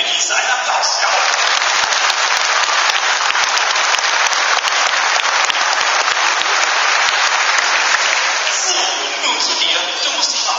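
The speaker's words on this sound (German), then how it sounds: "Dreh dich zum Publikum und genieße einen Applaus." An audience at a zoo dolphin show in a Duisburg delphinarium bursts into loud, sustained applause, dense clapping lasting about ten seconds before thinning out.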